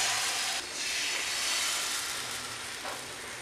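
Batter for spring roll sheets poured onto a hot dosa pan gives a loud, close hiss that dips briefly and then continues as a steady sizzle with no talking.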